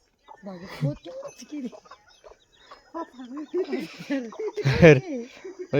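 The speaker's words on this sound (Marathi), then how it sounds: "छोटाले कोंबडीचे पिल्ले त्या ठिकाणी बघू शकता तुम्ही" Hens cluck and chicks peep close by, mixed in with people talking over the barnyard sounds.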